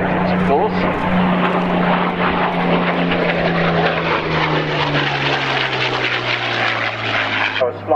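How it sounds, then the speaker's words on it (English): A vintage propeller aircraft powered by a 1200-horsepower Allison V12 100-series engine flies past at an air pageant, its steady loud drone sustained throughout with a slowly falling pitch as it passes, with no voices present. "Uses the most powerful derivative of the Allison V12 engine, the so-called 100 series, developing 1200 horsepower."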